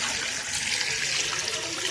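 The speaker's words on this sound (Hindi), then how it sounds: "ये पानी डाल दिया" Water pours steadily into a pot over washed bong paya (beef trotters) as a hiss that stays even and close for the whole moment, with no talk over it.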